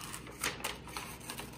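Scissors cut out a paper dolphin shape from the back of a mono print, making a quick, close run of crisp snipping clicks.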